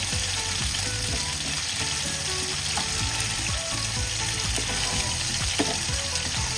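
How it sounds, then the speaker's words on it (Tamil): Green chicken masala frying in a pan, with a steady broadband sizzle running throughout, punctuated by occasional scraping and stirring knocks; no talking. "மசாலா பார்த்திங்கன்னா நல்லா ரோஸ்ட் ஆகி திருப்பி போடுறேன்"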